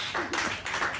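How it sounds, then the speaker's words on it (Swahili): A church congregation claps during a sermon in a quick, brief burst of a few sharp claps, with no talk. "Mpigeni makofi."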